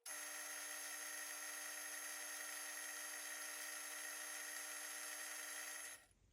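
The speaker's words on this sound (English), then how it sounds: "To drill this, I'm going to be using this bit here, which is a 2 millimeter brad point drill bit." A small power drill with a 2 mm brad point bit drills into a celluloid pickguard with a steady high whine. It holds for about six seconds, then stops.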